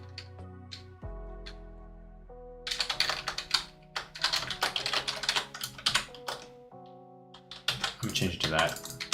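Rapid keystrokes clatter on a computer keyboard in uneven bursts after a brief pause, close and fairly loud, over steady sustained background tones.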